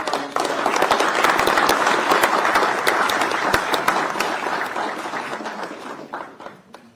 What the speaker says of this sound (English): let's give them a round of applause when we bring up our next guest